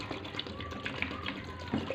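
Water poured into a cooking pot of mutton with turnip, a steady soft splashing and trickling that runs throughout, close and moderate in level, with no one talking.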